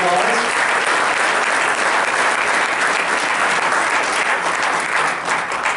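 Sustained, dense applause from a crowd at a town board meeting for an honored police officer, loud and even throughout with no gaps.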